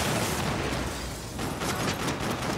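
Explosions and gunfire rumble in the video game Max Payne 3, forming a loud, dense, continuous roar with a brief dip midway before the blasts build again.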